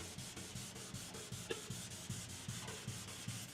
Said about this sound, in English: We'll get that all sanded out.